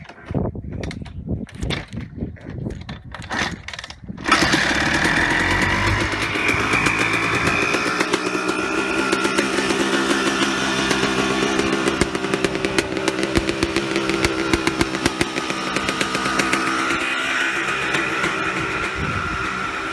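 A few seconds of clattering, then a small engine starts up and runs loudly nearby, a buzzy, rattling drone with irregular popping throughout.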